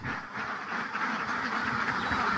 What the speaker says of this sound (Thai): เป็ดร้องว่าไปไปไป